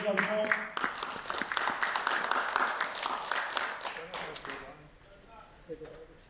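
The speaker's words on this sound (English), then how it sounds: "clap it up one more time as he comes up to the stage" Audience clapping and cheering as a man comes up to the stage at a training event, a dense, steady wash of applause that gradually thins out and fades toward the end.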